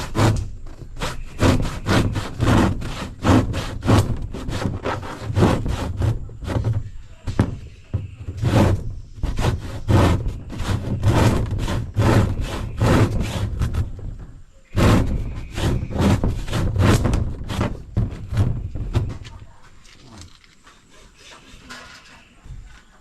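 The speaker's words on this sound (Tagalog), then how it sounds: "ba't may lumulusot na lagari dito?" A hand saw cuts through wood to open a window in a house under construction. The near, loud strokes come in a fast, steady back-and-forth rhythm, pause briefly around the middle, then resume and fade toward the end.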